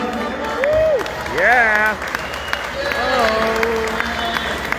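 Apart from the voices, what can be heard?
audience applause welcoming a musician to the bandstand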